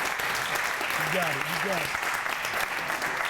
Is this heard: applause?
yes